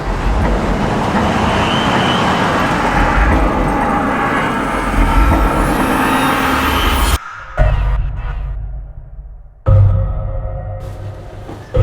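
A car moves with a loud, close engine and road rumble for several seconds, then the sound cuts out abruptly, leaving short bursts of engine noise and quieter gaps.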